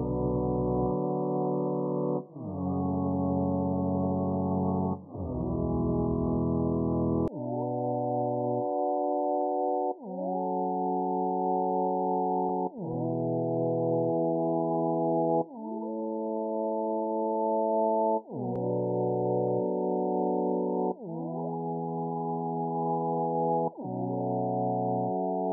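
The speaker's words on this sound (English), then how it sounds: "decrease the sample rate, giving us that underwater sound that we like" R&B synth chords exported at a reduced sample rate for a muffled, underwater tone, a slow progression of sustained, even chords changing every few seconds with no other sounds.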